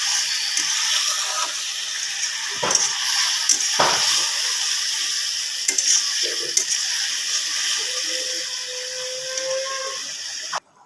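Water poured into a fish and vegetable curry in a hot pan sets off a loud, steady hissing sizzle with a few clanks, holding for several seconds before cutting off abruptly.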